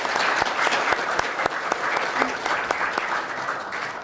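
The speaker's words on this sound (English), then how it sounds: "Let's give them a big round of applause to our panelists." Audience applause for panelists at a leadership panel discussion held in a hotel, a dense steady clapping with a few sharper claps standing out, lasting about four seconds without talk.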